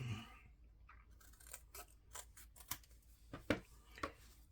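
Scissors snipping through layers of cardstock for a slimline card, a string of soft, crisp cuts in an uneven rhythm, close but quiet.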